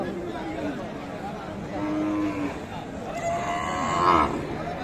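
A cow at a rural cattle market in Dinajpur lows with a long, drawn-out moo over a bustling crowd of voices and general market chatter.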